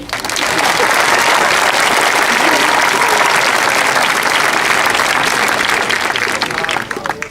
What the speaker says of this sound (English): If there are people here, would you please clap for me?